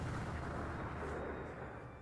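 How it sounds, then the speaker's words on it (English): A loud, sustained explosion rumble rattling through a cathedral, a dense booming roar that fills the whole stretch and tails off slightly at the end, with no voices over it. "the sound of an explosion rattles the entire cathedral"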